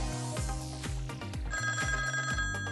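Incoming call ringtone inside a Great Wall car, a bright electronic ring repeating in a steady pattern of pulses, loud and clear with no talk over it.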